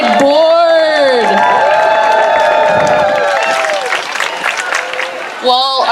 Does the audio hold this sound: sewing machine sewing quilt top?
no